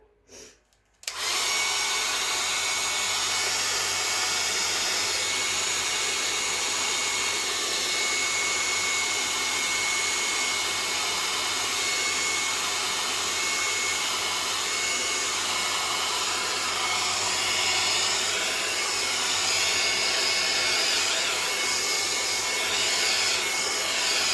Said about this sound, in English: So we can help ourselves with hair dryer.